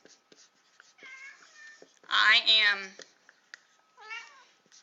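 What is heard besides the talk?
cat meowing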